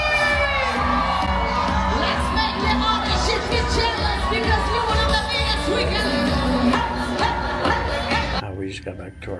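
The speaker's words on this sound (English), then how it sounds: "please put your hands together, scream and shout. Make some noise for your host today" A big crowd cheers, whoops and shouts for the activities host aboard the cruise ship Utopia of the Seas, a loud, steady roar of voices that fills the space before cutting off abruptly near the end.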